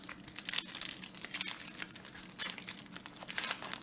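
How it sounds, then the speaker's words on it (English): Foil wrappers on Aether Revolt card booster packs are torn open and crumpled, giving repeated close, crisp crinkling bursts at a moderate volume with no voices. "Opening up our last 12 packs here."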